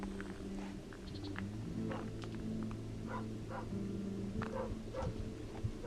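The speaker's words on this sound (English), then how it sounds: "just that blessed dog barking" A dog barks outdoors on a quiet walk among pines and evergreens near Selmun Bay and Imġiebaħ Beach in Mellieħa, Malta, with short, scattered barks that sound distant against a steady background hum.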